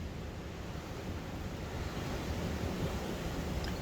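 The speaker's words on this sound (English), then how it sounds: "See, it's really windy." Steady, strong wind roars outdoors in the Rocky Mountains like rushing surf, a continuous broadband whoosh with no voices.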